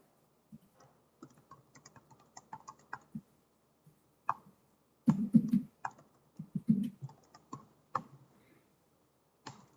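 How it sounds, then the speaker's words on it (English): Quiet, uneven keyboard typing, scattered clicks at first, then a denser burst of keystrokes with pauses between short runs. "Not doing a great job typing today."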